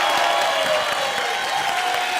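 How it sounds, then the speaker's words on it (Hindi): A studio audience on a comedy show set claps and cheers for Shahrukh Khan, a dense, loud, continuous wash of many hands with no voices over it. "शाहरुख सर के लिए जोरदार तालियां हो जाए।"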